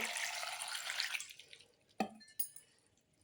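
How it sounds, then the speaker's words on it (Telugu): Water is poured into a pan of chopped broad beans: a short, faint splashing pour, followed by a few soft drips and small knocks. "ఇప్పుడు లైట్గా వాటర్ వేసి బాయిల్ చేసుకోవాలి"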